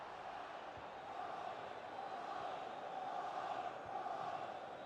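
Stadium crowd in eFootball during a corner kick, a steady distant roar of many voices that swells slightly, with no commentary over it.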